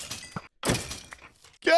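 A sudden burst of crashing, breaking noise from a skeleton explosion in Minecraft, loud and close, set among other game sounds and a speaking voice.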